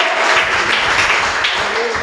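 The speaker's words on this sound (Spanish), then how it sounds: "Aplauda a Dios con todas las ganas." A church congregation applauds loudly and continuously, dense clapping that fills the room from start to end.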